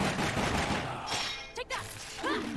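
Gunshots in the video game Resident Evil Darkside Chronicles, a rapid burst of gunfire with crashing impacts, loud and close, followed by a sharp break and a voice speaking.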